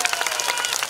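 A crowd at a political gathering bursts into dense, loud applause, continuous clapping filling the moment.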